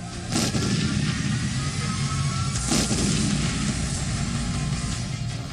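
Continuous loud rumbling roar with a couple of sharper booming bursts, like distant blasts echoing, no voices, from Indian army fire destroying Pakistani posts.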